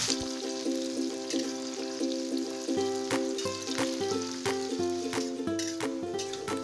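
Continuous crackling sizzle of shallots frying in oil, close by, with a faint tonal hum underneath and scattered sharper pops.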